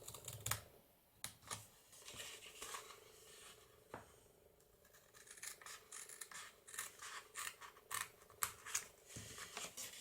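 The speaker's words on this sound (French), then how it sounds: "je coupe bien droit" Scissors snip through paper while an Easter cutlery pouch is being crafted, giving a quick run of close, crisp cuts and small rustles, with brief pauses between strokes.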